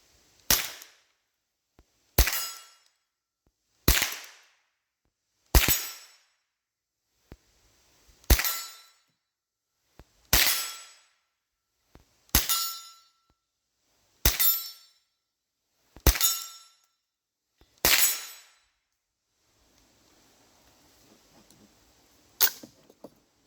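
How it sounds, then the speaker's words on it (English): Mossberg 702 rifle firing at a steel target 40 yards away, about ten sharp shots each followed by a short ringing metallic clang, spaced roughly two seconds apart and then one final shot after a pause. "let's take a few shots at it and see how these fixed sights work on this one"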